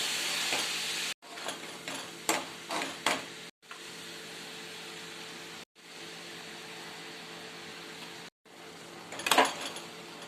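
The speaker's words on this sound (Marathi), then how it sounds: "थोडे थोडे भाजी टाकून आणि मिक्स करत राहायचं आणि पुन्हा थोडे टाकायचं" Mixed vegetables, including mustard greens, are added bit by bit to a frying pan and stirred, giving soft sizzling with a few scraping stir strokes, broken by brief silent gaps, with no talking.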